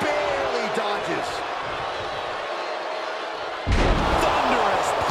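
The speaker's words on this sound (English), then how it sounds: "Thunderous powerbomb." A wrestling video game powerbomb slam in a two-out-of-three tables match, giving a sudden heavy thud that hits partway through and is followed by louder sustained crowd noise, over constant game background sound.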